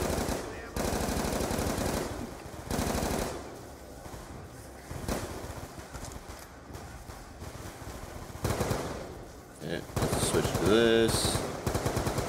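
Bursts of automatic gunfire from Call of Duty: Zombies come in loud, rapid rattling volleys separated by short lulls, mixed with game effects and some talking.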